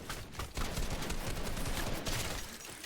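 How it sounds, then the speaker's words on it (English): Enemy bot grenades going off in the Fortnite video game, a fairly faint cluster of rapid crackling blasts running together for a few seconds with no pause. "I want to throw some enemy bot grenades down"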